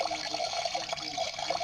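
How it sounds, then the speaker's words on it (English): A toy washing machine fills with water, giving a steady running, splashing trickle like a tap pouring into a small tub, close and continuous with no talking. "And then it starts making water noises."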